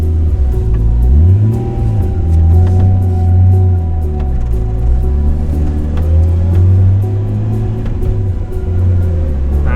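A Nissan R32 Skyline in poor running condition is driven around the block, its engine droning loud and close inside the car as the revs rise and fall through the gears.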